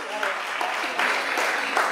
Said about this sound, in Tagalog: pwede mo ba mas malakas sa palakpak for Darren Espanto?